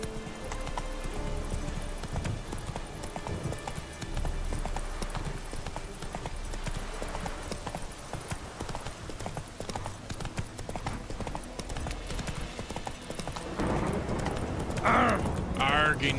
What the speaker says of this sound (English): you don't mind me riding a horse on your boards